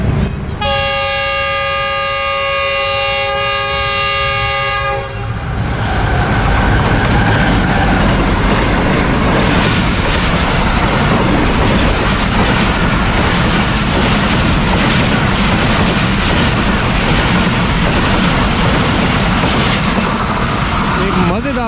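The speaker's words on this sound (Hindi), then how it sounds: "मज़ेदार स्पीड से पास हो गई है, कानाकाछा ब्रिज के नीचे से जा रही है मुल्तान रोड़ी कराची की जानिब" The Khyber Mail passenger train sounds a long, loud horn blast, then roars past beneath the Kanakacha bridge at speed, its wheels and cars rumbling steadily and close throughout.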